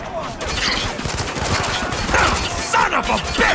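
Dense, continuous rifle and machine-gun fire in a desert battle in Dubai from Spec Ops: The Line, loud rapid bursts stacked over one another with shouting voices mixed in.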